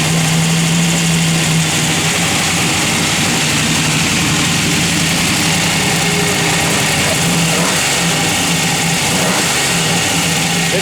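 Loud, steady running of the roller-cam engine in a 1955 Chevrolet 3100 pickup, a constant throaty drone with slight pitch shifts, close and uninterrupted.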